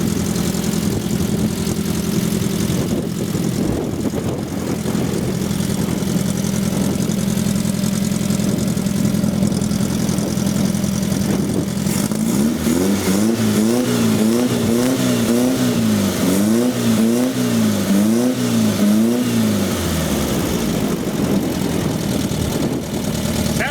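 A 1974 VW Beetle engine in rat-look condition idles loudly and evenly, then climbs through several rising and falling revs before settling again, close to the microphone with no talk.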